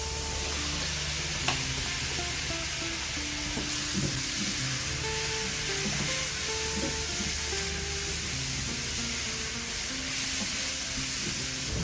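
Garlic and half a pound of mushrooms sauteing in sausage grease in a pan for stuffed peppers, a steady close sizzle and hiss throughout with faint stirring clicks, no talking.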